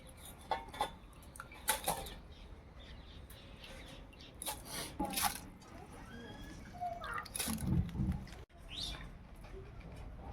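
Soaked rice being strained in a basket, intermittent clinks and rattles of utensils with some water trickling, birds chirping in the background.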